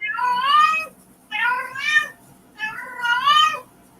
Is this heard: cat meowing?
yes